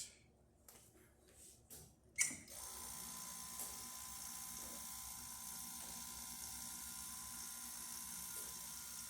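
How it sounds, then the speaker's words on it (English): The pump of a Kanen QM67 coffee machine, being diagnosed for pump failure, starts after a few quiet clicks and handling noises, then runs as a steady, faint mechanical hum for several seconds. "The pump runs."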